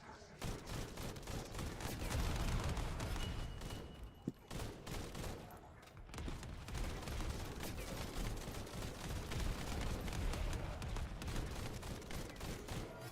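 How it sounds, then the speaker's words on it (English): Bombardment explosions wiping out enemies in a video game, a dense, continuous barrage of booming blasts and rattling gunfire that stays loud throughout with hardly any pause. "I love when bombardment takes out all the enemies that spawn nearby"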